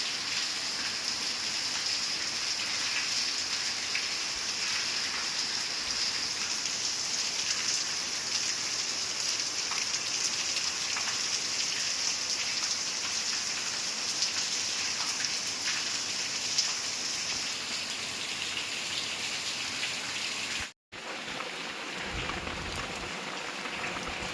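Steady rain falls without a break on a farmstead, a dense, even hiss of drops on surfaces, with a momentary dropout near the end.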